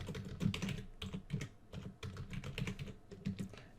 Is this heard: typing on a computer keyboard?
yes